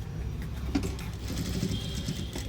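A sewing machine runs steadily while stitching the hook strip of a 32-size four-tuck blouse at zero or 0.1 stitch length, its motor whirring continuously at close range with a brief sharper knock partway through.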